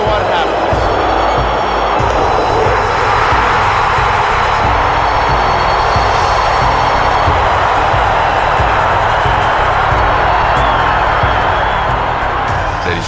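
A packed Philadelphia Phillies baseball stadium crowd roaring after a bases-loaded, two-out strikeout, a loud sustained roar of cheering that fills the whole stretch without easing.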